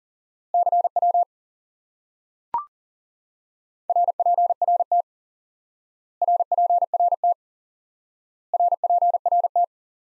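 Four short bursts of a clean, steady CW Morse code tone are spaced evenly with silence between them, broken once by a single sharp click.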